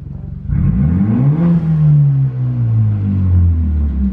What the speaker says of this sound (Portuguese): Escuta esse barulho do carro.